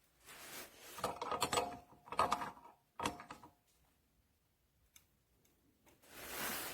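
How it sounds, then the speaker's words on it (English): A DURATECH universal ratchet wrench ratchets in several short bursts of dry mechanical clicking, close and fairly loud, separated by pauses, with quieter clicks near the end. "So you come around and it's going to ratchet this way and go again."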